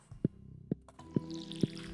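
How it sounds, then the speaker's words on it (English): Water poured into a pet's bowl in the Stardew Valley farming game, heard as four evenly spaced, soft liquid drip or plop sounds, each short and distinct, with faint background game ambience and no talking. "put water in her bowl"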